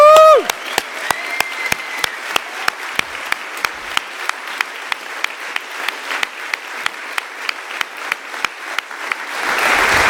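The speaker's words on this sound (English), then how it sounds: "so a big applause to Cooper" An audience at a Python conference sprint orientation claps for Cooper, opening with a cheer and a bright whoop, then continuing as scattered, distinct handclaps that grow fuller and louder toward the end, with no talking over it.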